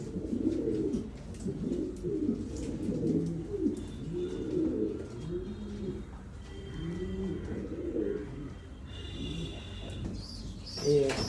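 Several pet pigeons, including a shirazi-type bird, coo in steady, rounded repeated phrases, close and moderately loud, with faint background noise and a brief higher chirp near the end.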